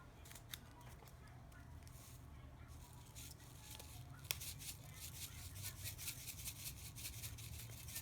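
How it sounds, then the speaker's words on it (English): Scissors snip and rub steadily while slime is being made at home, a soft continuous cutting texture with one sharp click midway, fairly quiet and close. "Be safe when you use your scissors."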